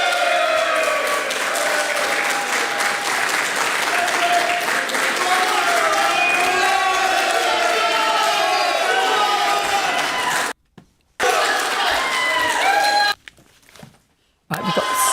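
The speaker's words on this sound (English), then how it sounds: "Just a loud cheer." A loud, dense roar of cheering and applause from a crowd at the 2024 UK general election count in Rochdale, sustained throughout before briefly cutting out and returning near the end.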